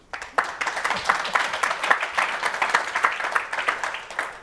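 Audience at a business and climate change conference breaks into steady applause, a dense patter of many hands clapping at moderate volume for several seconds.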